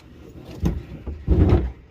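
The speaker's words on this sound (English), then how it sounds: "Soft close drawers." A soft-close drawer in a van slides shut close by in two short, muffled low thuds, with the second longer and easing to a stop.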